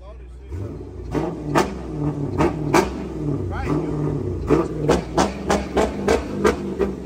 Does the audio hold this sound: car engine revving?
yes